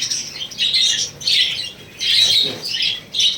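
Lovebirds in a room kept just for birds give harsh, repeated squawks in several loud bursts, close by, with no talking.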